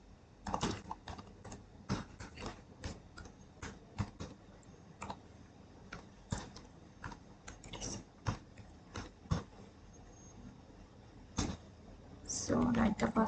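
Someone types a password on a computer keyboard in a Linux session: sparse, crisp key clicks in an uneven rhythm, faint and close, with a short burst of quicker keystrokes near the end; a voice talks at times.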